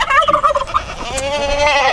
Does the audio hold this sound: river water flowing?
no